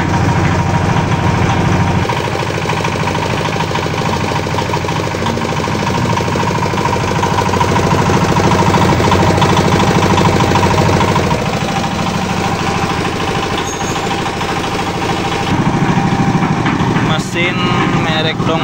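A Dongfeng diesel engine powering a 350-liter concrete mixer idles steadily nearby, a constant rattling drone that runs throughout while someone talks over it.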